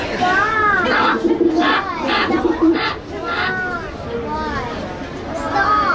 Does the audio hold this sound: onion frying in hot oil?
no